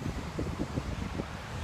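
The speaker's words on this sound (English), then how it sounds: "As you can see, it's already really windy out." Steady wind at Jensen Beach buffets the microphone in low gusty rumbles, moderately loud and continuous, with no voices.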